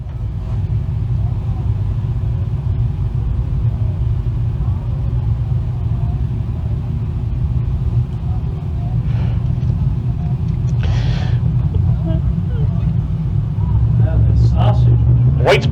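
Dirt Car 358 Modified race cars take the green flag at Can-Am Speedway, a dirt track, with a constant loud, low engine rumble from the field that swells slightly near the end under steady announcer commentary.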